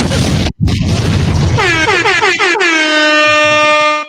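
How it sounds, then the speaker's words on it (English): A loud boom gives way to a blaring air horn sound effect played from a soundboard, its warbling pitch sweeping before settling into a long sustained blast. "Play some of that soundboard music."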